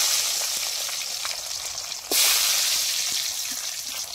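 Mustard seeds and chopped garlic frying in oil for a dried-fish curry cooked in a mud hut, a steady close sizzle with scattered pops, briefly swelling louder midway, no talking.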